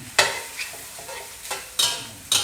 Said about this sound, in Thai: อันนี้คือผัดครู่นึงครับ